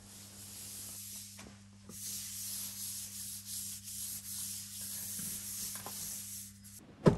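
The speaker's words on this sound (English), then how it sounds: "roll the artwork onto the surface, avoiding air holes or wrinkles" Artwork being rolled and smoothed by hand onto an arcade pedestal cabinet surface gives a soft, continuous rubbing and sanding-like hiss, close and quiet, rising and falling with the strokes and ending in a brief louder scrape.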